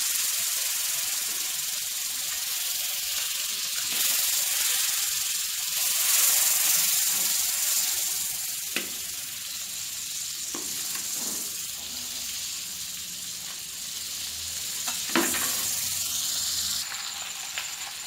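Blue Band margarine sizzles and hisses steadily in a hot pan while peanut sauce is being made, a continuous close-up frying crackle with a few sharp pops and no talking.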